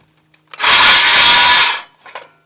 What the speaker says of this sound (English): I'll show you a notch that I make with the jigsaw